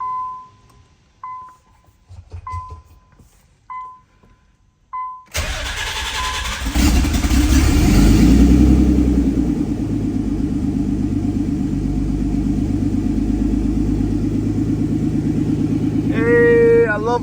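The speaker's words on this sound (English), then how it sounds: "And let's fire this car up." A twin-turbo Nissan 300ZX cranks and fires, preceded by a few short warning chimes, then settles into a loud, rumbling idle with blips of revving, close to the car.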